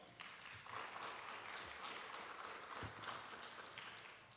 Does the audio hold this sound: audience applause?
yes